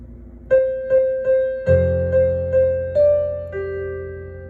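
Soft piano excerpt of a song, with a series of regularly timed melody notes over a sustained low bass note that enters partway through, and the last notes ringing out as the phrase ends, no talking.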